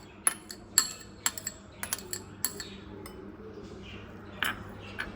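Grated egg being put into a bowl, with a series of sharp metallic clinks of cutlery against the dish, spaced irregularly and fairly close, over a quiet background.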